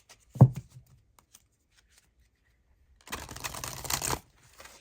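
Tarot cards being shuffled and drawn: a single soft tap, then a close, crisp riffle lasting about a second, with faint rustles afterward.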